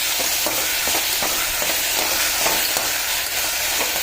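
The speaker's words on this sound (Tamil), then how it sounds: "இது வதங்கட்டும் நல்லா." Bottle gourd sautéing in a pan for a rice dish, giving a steady, close frying sizzle with light stirring scrapes throughout and no talk.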